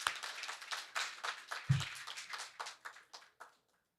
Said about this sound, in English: join me in just giving a round of applause to a wonderful female leader in Diane.